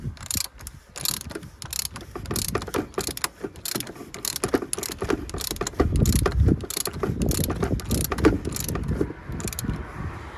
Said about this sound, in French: avec le cliquet. Hop. Bien sûr, pas besoin de serrer super fort ça.